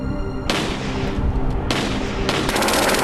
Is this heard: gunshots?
yes